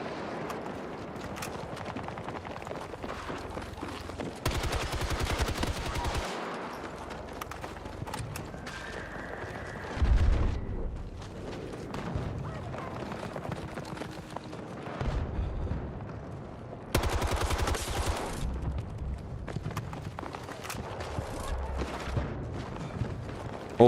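Gunfire from a first-person shooter video game, a busy run of loud bursts and bangs that come back again and again across the whole stretch, laid over a dense, steady game soundscape.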